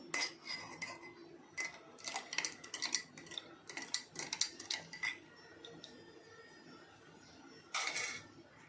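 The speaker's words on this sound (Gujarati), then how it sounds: "હવે આ રીતે ચમચીથી હલાવી નાખવાનું આપણે" A metal spoon clinks rapidly against the sides of a glass while stirring mint sharbat with cold water, a steady run of bright taps, then a short final burst after a pause.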